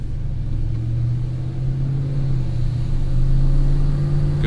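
A slammed GMC Sierra pickup with a swapped-in 5.3 V8 drones steadily while driving down a street, its loud, close engine rumble holding a low hum that swells slightly toward the end.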